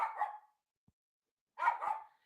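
A dog barks in two short bursts, a couple of sharp barks each, close and fairly loud, separated by about a second of silence.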